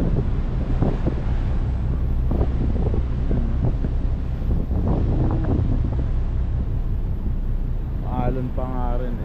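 Strong wind roars across the microphone with a constant low rumble of sea waves during a nighttime ferry crossing, loud and steady throughout, with people talking intermittently over it.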